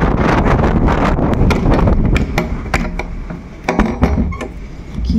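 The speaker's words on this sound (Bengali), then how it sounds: "কি জোরে হাওয়া দিচ্ছে" Strong stormy wind gusts outside a balcony, a loud, close roaring buffet against the microphone with sharp irregular bursts and a brief lull near the end.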